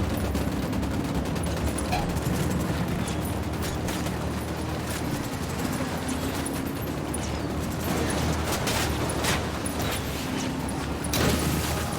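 A squad in Ghost Recon Wildlands opens fire, with rapid, sustained gunfire and bursts stacking into a dense, loud fusillade that continues for several seconds.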